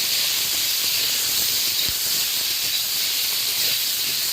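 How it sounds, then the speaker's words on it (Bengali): Eggplant with salt and turmeric frying in the oil released by hilsa fish, a steady dense hiss that stays even and close throughout with no speech. "এই পর্যায়ে আমি ওই তেলে বেগুনটা লবণ হলুদ দিয়ে একটু দেবো।"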